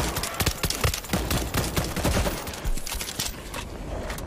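Video game gunfire from World War Z, with dense rapid volleys of shots crackling loudly and continuously, like a fusillade of automatic weapons.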